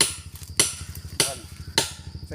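Wooden pegs are hammered into a tree trunk to climb toward wild honeybee nests. Four sharp, evenly spaced strikes ring out about every 0.6 seconds over a low, rapidly pulsing engine-like drone.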